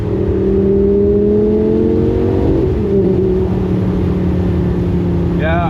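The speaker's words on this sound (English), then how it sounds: "Also those upshifts are so loud." A Lamborghini Gallardo V10 fitted with a straight pipe exhaust drones loud and close, climbing in pitch and then dropping at an upshift, followed by a fresh rising rev. Someone speaks over the engine.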